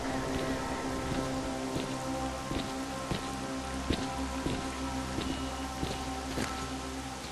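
Rain in the video game STALKER Call of Pripyat, a steady dense hiss of drops falling on surfaces, with irregular soft taps and a low ambient hum beneath, continuous and without speech.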